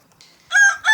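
A rooster gives a faint cluck, then a loud, close, bright crow that breaks into two bursts.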